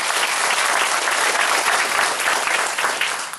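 A crowd at a business event in Thailand gives a company a full round of applause. Loud, steady clapping holds for the whole stretch and eases off slightly at the end.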